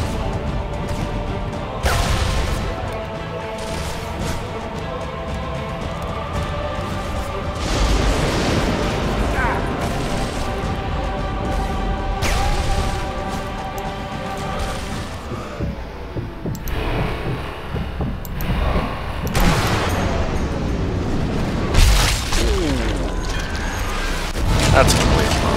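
Grenade blasts and gunfire in the Sniper Elite V2 video game, several sharp booms and rumbling impacts spread across a long stretch, with someone talking over much of it.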